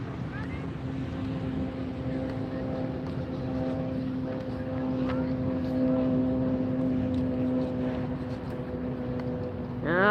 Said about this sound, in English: That's an E-Jet.